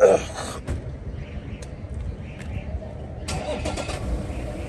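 A 1998 Toyota Land Cruiser Grand in genuine condition cranks and its engine catches near the end, settling into a mid-pitched running sound close by, with people talking around it.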